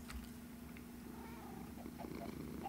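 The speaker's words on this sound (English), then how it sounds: "Let's go over here, wake up our cat." Cat purring in the Minecraft video game, a soft, low, steady rumble heard close and alone, very quiet throughout.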